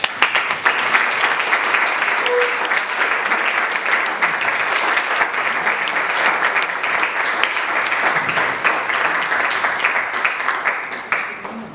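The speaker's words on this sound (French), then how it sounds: "Vous avez eu raison d'applaudir" An audience applauds at the close of a lecture: dense, steady clapping from many hands, sustained for about twelve seconds at an even level without a break.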